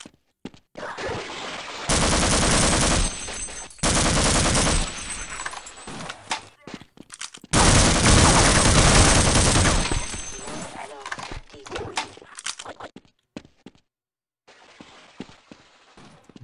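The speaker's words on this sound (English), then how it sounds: "Those guys are shooting somebody" Enemy gunfire in Half-Life, with loud bursts of automatic fire in blocks of a second or more, separated by gaps and broken up by sharp single shots and clattering impacts.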